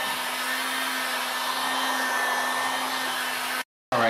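A heat gun warming the glue around a Porsche Cayenne headlight lens, a loud steady blowing hum close by that cuts out briefly near the end before starting again.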